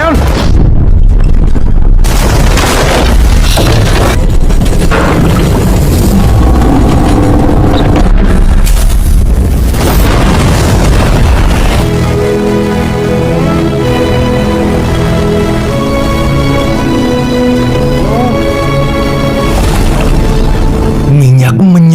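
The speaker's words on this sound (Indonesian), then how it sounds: "Sarah dan Smith meledakkan dinamit" Dynamite blasts and gunfire in a dramatic oil-field film scene: dense, loud booms and crackling bursts crowd the first half amid shouting, then give way to swelling orchestral music.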